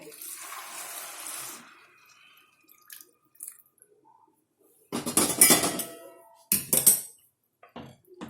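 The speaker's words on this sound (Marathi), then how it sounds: "पाणी टाकते" Hot water pours into rice in a pressure cooker while cooking peas pulao, a soft watery rush at first, then a quiet gap before several close, loud clinks and clatters of metal utensils against the pot.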